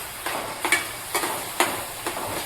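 Onion and tomato sauté in a pan for homemade pasta. A soft sizzle runs under several short scraping stirs of a spoon against the pan, close and fairly quiet, with no talking.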